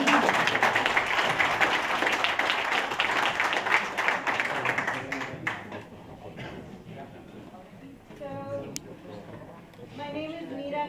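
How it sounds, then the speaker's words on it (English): An audience at a water justice talk claps loudly for several seconds, and the applause fades out about halfway through as a voice begins talking. "You can now applaud."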